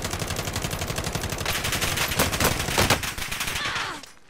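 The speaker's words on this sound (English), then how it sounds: "There's more shooting me." In Call of Duty: Modern Warfare, a loud, dense burst of automatic gunfire rattles on rapidly for about four seconds with overlapping shots, then cuts off.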